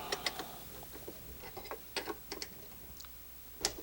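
Quiet, irregular metallic clicks and light ticks from a wrench working in tight quarters under a Dillon XL 650 reloading press, scattered sparsely over a faint background.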